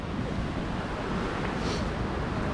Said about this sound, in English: we are enjoying the wonderful Red Creek that flows right through the Forks camp